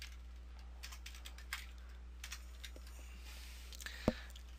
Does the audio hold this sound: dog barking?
no